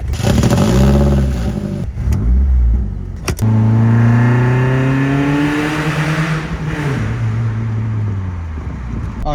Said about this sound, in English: it's just this massive aftermarket intake, and it sounds pretty good